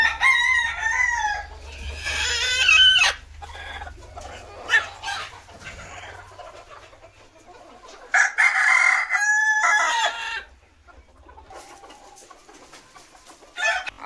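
Free-range village hens cluck around the egg-laying boxes on a poultry farm while a rooster crows loudly twice, with quieter gaps of scattered clucks in between.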